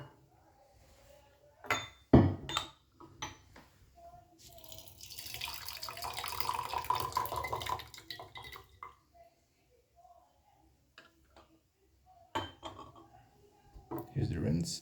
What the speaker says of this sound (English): let's give this a quick rinse